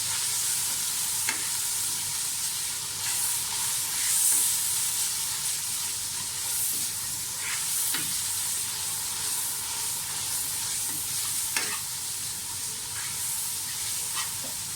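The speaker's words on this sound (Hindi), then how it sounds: "दही डाल दें। अच्छी तरह से इन सब चीज़ों की भुनाई कर दें।" Spices and yogurt fry in a pan for chana pulao, a continuous loud sizzle and hiss with periodic scraping strokes of a spoon stirring through the mixture.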